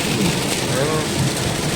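Heavy rain streams down in a windstorm, a loud unbroken wash of noise with low rumbling beneath.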